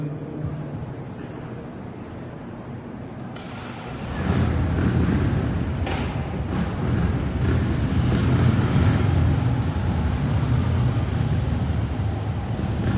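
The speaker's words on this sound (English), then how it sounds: "they're going to get the bike up to a little bit of speed, and they're going to stop it" Motorcycle engines rumble and rise in a broad roar after a few quiet seconds at the Toronto Motorcycle Show, bikes accelerating then braking to a stop, staying loud and steady with wind buffeting the microphone.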